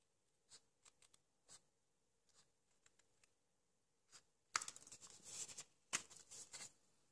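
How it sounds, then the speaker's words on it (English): Scissors cutting paper along a curve for a pillow box, faint scattered snips at first, then a louder, close burst of crisp cutting and paper rustle. "we'll close it back up again and we'll cut along where we've done that curve"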